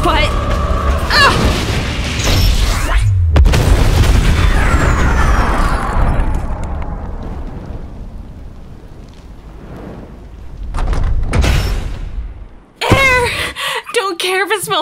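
A bomb explosion in a comic dub erupts as a loud, sustained boom that rumbles and slowly fades, with voices talking before it and excitedly afterward.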